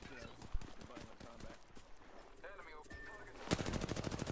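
Rapid gunfire in the video game Apex Legends crackles in bursts under excited player voices, with a dense automatic volley near the end.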